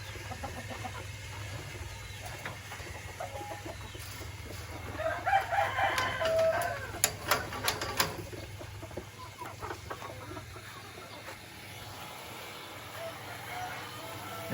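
Chickens and a rooster on a farm cluck and crow in a burst near the middle, fairly faint against a low background hum, with soft bits of speech now and then.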